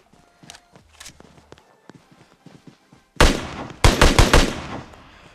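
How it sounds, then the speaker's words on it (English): Single-shot shotgun fired in the PUBG Mobile video game, with several loud, close blasts in quick succession after a stretch of faint footsteps and soft game noise. "I hate this single shotgun."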